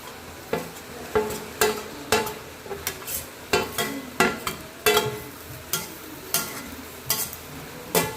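Potato pieces and peanuts frying in a pan for a fasting-day khichdi, with repeated stirring scrapes in an irregular rhythm over a steady low sizzle, close and alone.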